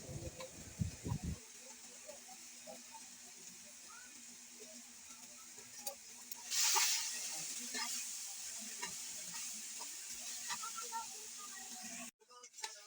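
Garlic frying in a pan at home for samgyupsal, a faint steady sizzle after a few louder opening clatters, with a brief burst of hiss midway and a soft voice now and then.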